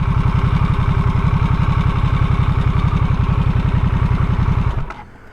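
A Harley-Davidson Nightster Special's 975 cc Revolution Max engine idles loud and close with a steady, rapid throbbing pulse, then shuts off near the end and falls to near silence.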